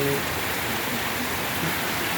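Heavy monsoon rain pours down in Jaipur, Rajasthan, a dense, constant roar of water hitting surfaces close by, with no voices over it.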